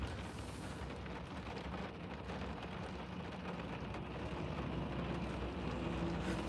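Heavy rain pours down in a steady, dense patter with a soft low rumble, growing slightly stronger toward the end before a sharp knock.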